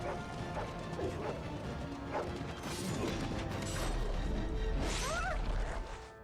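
Hounds barking in the Dragon Age video game during a chaotic battle, yelps and barks scattered among clashing combat noise and crashes, with a whining dog cry near the end, loud and continuous throughout.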